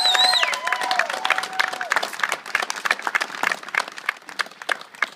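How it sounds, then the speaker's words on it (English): A college commencement audience claps for staff at a GED graduation ceremony, many hands forming a dense patter with scattered cheering. A few whistle-like tones ring out at the start, and the clapping thins slightly toward the end. "I just want to give them a big round of applause,"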